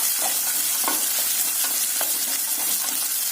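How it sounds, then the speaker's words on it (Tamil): Shallots, garlic and dried red chillies sauté in hot oil, giving a dense, constant sizzle with soft stirring taps at a loose rhythm. It is close and fairly loud, and no one speaks. "சேர்த்துட்டு நல்லா இந்த எண்ணெயில வதக்கி விடலாங்க"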